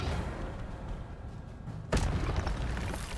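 Incendio fire spell cast in Hogwarts Legacy, a single sudden whooshing burst that flares up loud and close over a steady low game ambience, then settles into a crackling rumble.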